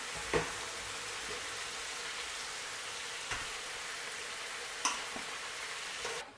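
Chicken fries in hot oil for a Cameroonian potato hotpot, a soft, continuous sizzle broken by a few sharp clinks and knocks of the utensil, with no one speaking.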